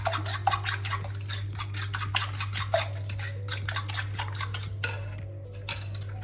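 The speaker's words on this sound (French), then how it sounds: "Je mélange bien ça à la fourchette." A fork briskly mixes a tart topping mixture in a bowl, producing rapid, continuous close-up clinking and scraping against the bowl over a low steady hum.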